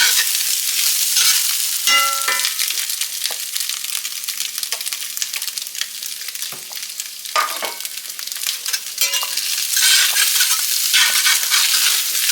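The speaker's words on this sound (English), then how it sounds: "What he's doing here is just heating this brisket up and kind of getting a crisp on it." Leftover beef brisket frying and crisping in a hot pan, a loud continuous crackling sizzle with scattered spatters and occasional utensil scrapes throughout, no voices.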